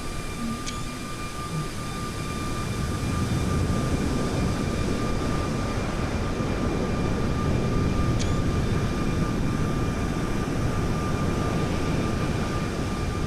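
Boeing 737 MAX airliner engines in a flight simulator roar as a steady, loud broadband rumble throughout, with a faint constant tone above and no talk.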